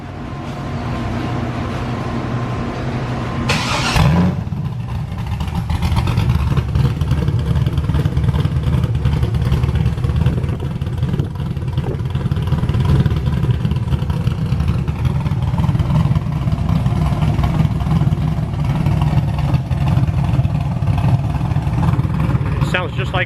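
A Honda S2000 engine cranks over and catches, then idles loud and steady nearby for a long stretch.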